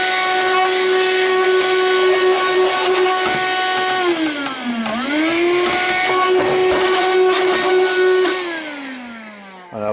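A steam spray cleaner used on wooden drawers gives a loud continuous hissing whine with a steady tonal pitch that dips and recovers midway, then trails off near the end.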